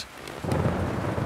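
A storm sound effect of steady rain with a low rumble of thunder swelling in partway through and rolling on to the end.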